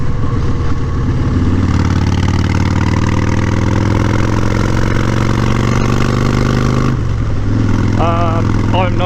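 A motorcycle fitted with a Klock Werks Flare windshield rides along with a steady mid-pitched engine drone that shifts gear partway, while a rider talks over it.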